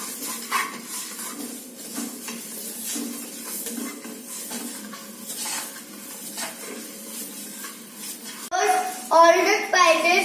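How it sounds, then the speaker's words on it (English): Spices for red chilli pickle are tossed and stirred in a pan, a soft scraping and light rattle of utensil on metal under a low kitchen hiss, with a voice near the end. "Toss all ingredients in pan."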